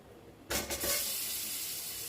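Black cumin seeds hit hot oil with a sudden loud sizzle, then settle into a steady close frying hiss that continues to the end.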